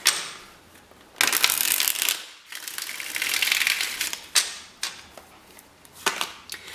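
Tarot cards shuffled in several quick riffling bursts, crisp papery flutters with short pauses between them, close by and fairly loud.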